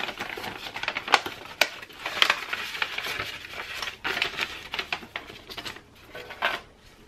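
Paper cash and a paper budget envelope rustle and crinkle up close in a steady, busy patter of soft handling noises, with no talking.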